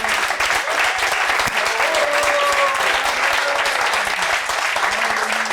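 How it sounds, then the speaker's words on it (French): A church congregation applauds steadily and loudly throughout, dense continuous clapping filling the room with a faint sustained tone and murmurs underneath. "meilleur applaudissement au Seigneur"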